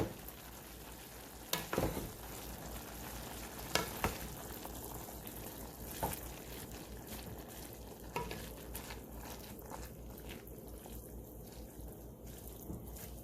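Ground beef and cabbage soup being stirred in a pot, a soft steady simmering hiss broken by several sharp spoon knocks against the pot every couple of seconds.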